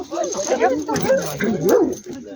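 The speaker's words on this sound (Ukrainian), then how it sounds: "Собаки зараз балуються, гуляють." Several dogs at a kennel club Halloween gathering yip, whimper and bark playfully in short bursts close by, with people talking over them throughout.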